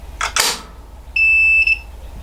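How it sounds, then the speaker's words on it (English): A digital readout on a machine tool beeps as it powers up after an isolation switch is installed: a single steady electronic tone of about half a second, following a brief rustle of handling noise. "You should hear a beep from the DRO and the light should come on."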